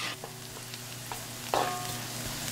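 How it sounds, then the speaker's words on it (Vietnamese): Shallots and garlic sauté in a hot pan, giving a steady close sizzle with scattered scraping stir strokes and a louder surge of frying about halfway through; no one speaks. "Cho hành tím nè, tỏi, xào lên cho thơm."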